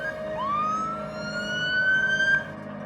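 An ambulance siren wails in two long rising tones, steady and moderately loud over a low traffic rumble, with no voices.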